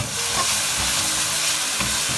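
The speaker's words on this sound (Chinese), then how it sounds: "炒1分钟左右，把料汁再搅拌一下，倒入锅中" Pork and green peppers stir-frying in a wok with a steady close sizzle and hiss, sauce poured in and stirred through, with no voices.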